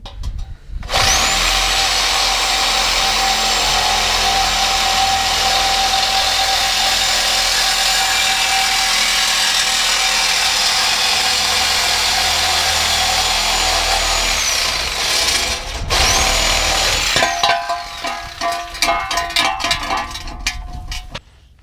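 A loud power tool cuts through the exhaust pipe of a fourth-generation Pontiac Trans Am, removing the catalytic converter, nonstop for about fifteen seconds, stops briefly, then revs and cuts again in shorter, uneven bursts.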